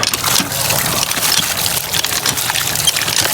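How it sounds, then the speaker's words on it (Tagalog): Water gushes and splashes steadily from a hand pump, a continuous rough churning with a faint mechanical rhythm underneath, close by. "Pinarinig ko lang naman sa inyo yung tunog ng poso"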